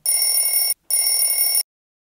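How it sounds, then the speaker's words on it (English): A telephone rings indoors with two loud, close electronic bell bursts separated by a short gap, followed by silence. "And then the phone rang."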